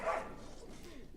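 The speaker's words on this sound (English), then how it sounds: "our dogs are going a little nuts in the background there" Pet dogs bark and yip a few times in the background, faint and brief, from another room, with no talk over them.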